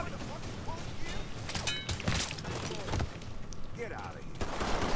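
Gunfire in the video game Mafia 3: scattered, muffled shots and thuds over a constant background din, with a few sharper cracks and faint mechanical clatter. Voices talk at times alongside the shooting.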